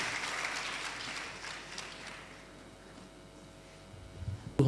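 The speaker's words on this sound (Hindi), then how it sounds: "इस कलाकार के सम्मान में भी एक बार ताली बजाना चाहिए" An audience at a Hindi poetry gathering claps in honor of an artist, loud and full at first, then thinning and fading to scattered claps before a brief bump near the end.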